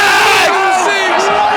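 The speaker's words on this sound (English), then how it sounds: "The crowd has erupted." A loud, close roar from a cricket match crowd erupting in sustained cheering and shouting, a dense wall of voices holding steady throughout.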